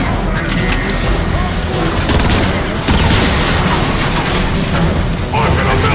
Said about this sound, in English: How about calling in an artillery strike?